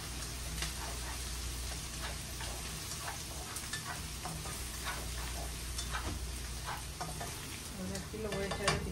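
Grated garlic frying in a pot, a steady, dense sizzle with crackling spits and pops throughout, close and fairly loud with no voices over it.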